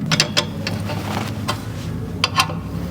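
Factory 8mm Torx bolts being tightened on a Maxtrax mount on an Ineos Grenadier, giving a series of close, sharp ratchet clicks in short irregular bursts over a low steady background hum.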